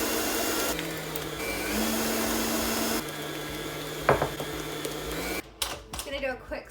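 An electric hand beater whirs steadily through cake batter for a prosecco pear cake, its motor pitch stepping up as the speed is raised, with brief clatters and handling noises near the end.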